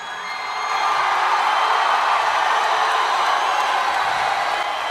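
A large crowd at a WWE wrestling event in a Chicago arena roars and cheers, a broad, continuous wash of noise that swells during the first second, then holds loud and sustained.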